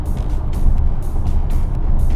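Truck engine rumbling steadily on a downhill highway in a driving simulator game, loud and continuous with no talk over it.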